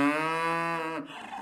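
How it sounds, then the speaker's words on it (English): A single cow moos close by at a farm in Romania, a long, loud, low drawn-out call that fades near the end, with no talk. "you'll hear them moo."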